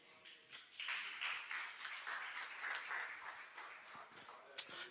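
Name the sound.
congregation applause in church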